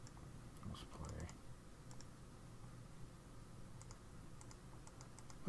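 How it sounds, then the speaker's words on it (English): A computer mouse clicks faintly while Magic: The Gathering Online is played, a few sparse, light ticks scattered over a low, steady background hum. "I'm like left clicking and it doesn't do anything. I have to right click."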